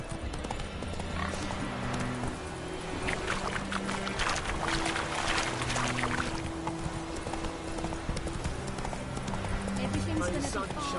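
Roach the horse trotting in a video game, steady clip-clop hoofbeats running through the whole stretch beneath a busy layer of game music, water and ambient effects, with voices speaking at times.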